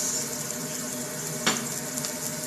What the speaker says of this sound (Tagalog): So, igigisa na po natin ang sibuyas.